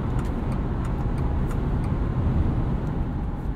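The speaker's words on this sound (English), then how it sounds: "Get a little bit of sound from the engine and drivetrain" Steady low engine and drivetrain hum from a 2022 Subaru Outback Wilderness on the road, with constant broadband road noise and no talking throughout.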